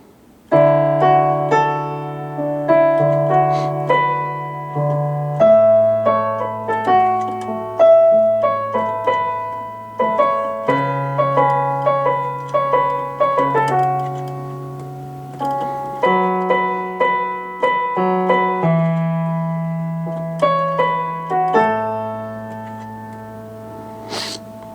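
Solo piano plays the chorus of a song, with sustained low chords under a melody on top and steady, evenly spaced attacks that ring out loud and close, with no voice.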